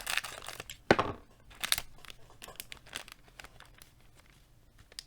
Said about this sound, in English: Actually, I'm still going to use my scissors on these.